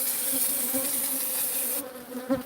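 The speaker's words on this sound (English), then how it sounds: "The remnant bees will come back." Bees from a live hive drone in a close, steady buzz with a constant pitched hum. The whine thins out near the end, when a soft knock is heard.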